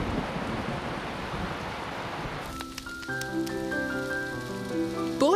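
Steady rain with thunder in a Postman Pat cartoon storm, a soft hiss of rainfall that gives way halfway through to a musical score over fainter rain.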